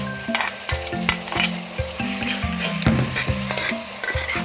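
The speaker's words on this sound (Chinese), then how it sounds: "现在加入准备好的橄榄菜" Rice stir-fried in a pan with preserved olive vegetables, a home-style Cantonese dish, with a spatula scraping and knocking against the pan in repeated strokes over a soft sizzle, close and without speech.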